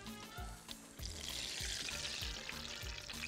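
Eggplant slices cut lengthwise fry in hot oil for eggplant pizza, giving a steady, close sizzle with soft, regular low bumps from the pan running underneath.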